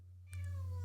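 A cat gives a single drawn-out meow, close and fairly loud, that starts abruptly and holds steady over a constant low electrical hum, with no one talking.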